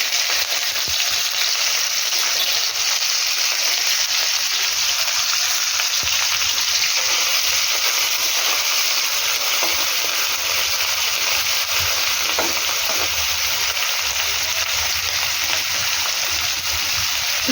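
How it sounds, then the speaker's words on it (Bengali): Lotia (Bombay duck) fish fry in a pan with a dense, steady sizzle and crackle of hot oil, loud and close, continuing unbroken throughout with no talking. "তো এবার আমি লটিয়া মাছটা ভেজে নেব।"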